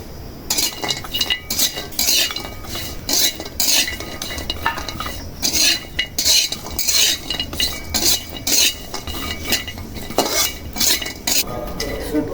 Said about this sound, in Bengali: এখন শুটকি মাছগুলি ভাইজে নেই দাও